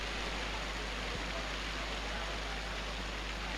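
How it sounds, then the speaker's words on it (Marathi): Heavy rain pours down on an open cricket ground during a rubber-ball match, a steady, even hiss of falling water filling the whole stretch with no voices over it. "भर जोराने पाऊस चालू आहे मैदानाच्या आतमध्ये देखील"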